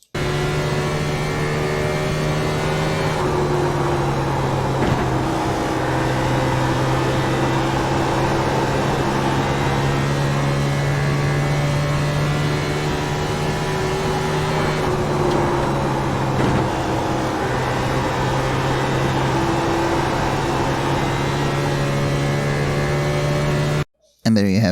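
A race car engine holds a steady, loud drone through a lap at Dover in iRacing, with pitch shifting slightly around the corners and a brief break near the end.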